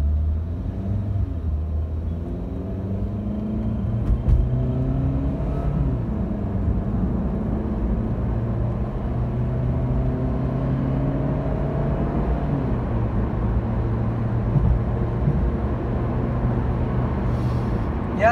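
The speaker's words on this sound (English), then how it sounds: "we are in the Volkswagen Vento for the acceleration test" Petrol automatic 2014 Volkswagen Vento Highline accelerating hard in sport mode, heard from inside the cabin as a low engine drone rising in pitch through several gear changes, each shift dropping the tone before it climbs again.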